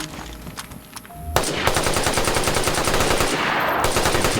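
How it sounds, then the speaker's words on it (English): Gunfire hits a Dingo truck's window in the video game DayZ: a few scattered shots, then a loud, rapid, sustained burst of automatic fire that keeps going to the end. "that is a lot of shots to break a window"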